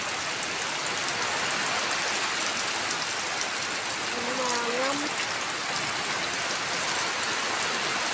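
Heavy rain pours down steadily during a storm at a rural home, a dense continuous hiss of falling water with a brief faint whistle-like tone in the middle.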